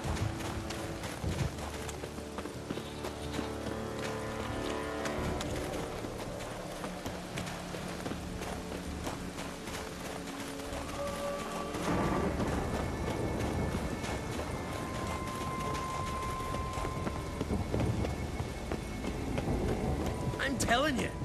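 Hooves of a large horse clip-clop and gallop steadily in The Witcher 3, with the rhythm continuing under game music and character voices throughout.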